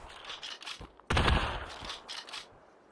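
Gunfire in the VR shooter Population: One: a few quieter shots, then a sudden loud burst of rapid fire that rings out and tails off, with scattered shots after.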